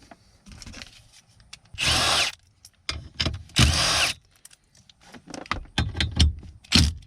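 A 10mm socket, likely on a power driver, backs out a bracket bolt inside a Kia Optima interior, giving two loud whirring bursts separated by clicks and handling noises, with no talk.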